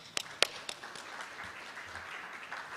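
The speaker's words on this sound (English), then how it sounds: "So on that note, I want to give Navinia and her team a round of applause." A few scattered claps open, then a soft, thin round of audience applause at a certification event in Jamaica, quiet and fairly distant.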